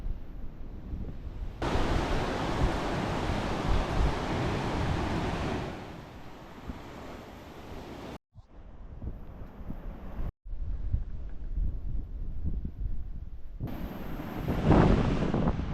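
Waves wash onto a beach at high tide on the Exe Estuary, a steady, loud roar of surf with heavy wind buffeting the microphone, broken by two brief dropouts.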